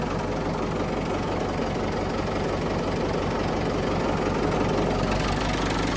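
A heavy tractor engine, a 475 model, idles close by, a steady, loud low rumble with a faint rhythmic knock running unbroken throughout.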